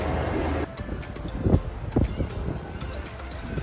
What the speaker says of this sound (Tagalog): Napakasarap po ng simoy ng hangin.